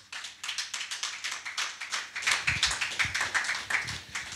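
A church congregation claps in steady rhythmic unison to acclaim the Lord, with quick even beats building slightly louder partway through.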